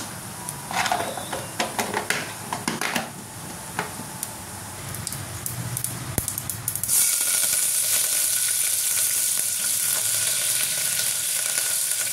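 Steady hissing sizzle of cumin seeds hitting hot oil for tempering, loud and continuous, with a few clinks and stirring sounds at the start.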